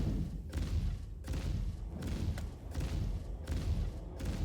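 Ship weapons firing in the Star Citizen space combat game, a rhythmic series of heavy muffled thuds repeating about every half second, fairly faint.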